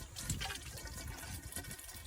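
RV antifreeze, a non-toxic pool winterizing liquid, poured from a jug into an underground swimming pool line, making a steady, close gurgling pour and trickle that continues throughout without pause.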